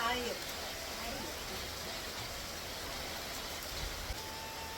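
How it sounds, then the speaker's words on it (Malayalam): Heavy monsoon rain comes down hard outdoors, an even, continuous rushing hiss that holds steady and fairly faint throughout, with a slightly louder burst right at the start. "നല്ല തകർത്ത് മഴ പെയ്യാണ് കേട്ടോ. ഇടിയും പൊട്ടുന്നുണ്ട്."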